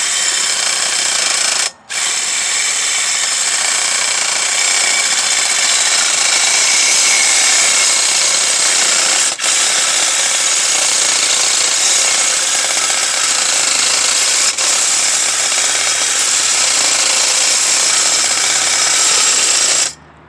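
A DeWalt 12V cordless reciprocating saw cuts steadily in a loud, harsh, rasping buzz that runs almost nonstop for about twenty seconds, with one brief stop near the start and slight dips in tone.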